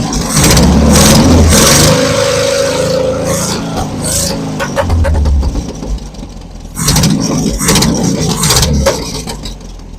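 A 1981 Datsun 720 engine with its distributor timing a few degrees out revs in several bursts near the listener. Each throttle blip rises with a slightly boggy, hesitant note, with idling between the bursts.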